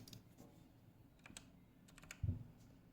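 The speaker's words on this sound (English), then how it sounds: "I'm just typing it right now here" Fingers type on a computer keyboard, a quiet, sparse patter of individual keystrokes with a slightly firmer press near the end.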